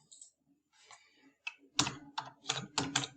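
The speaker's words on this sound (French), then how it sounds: "on va tout simplement taper du coup" Typing on a computer keyboard, a few hesitant keystrokes followed by a quick run of crisp clicking taps, close and clear with no speech.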